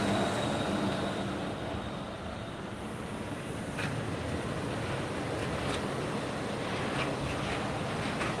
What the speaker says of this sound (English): So we'll grab a monorail moving forward.